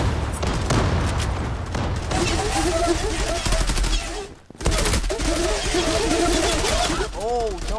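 Rapid bursts of gunfire crackle through a competitive tactical shooter video game match, dense and overlapping, with a brief lull midway and a caster's excited voice talking over the action.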